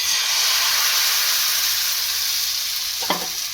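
Thin batter for homemade spring roll sheets sizzling on a hot flat pan, a loud, bright steady hiss that fades slightly over time, with a brief scrape or tap near the end.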